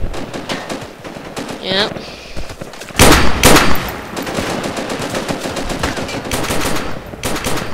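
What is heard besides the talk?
gunfire from enemies shooting in video game Project Reality Vietnam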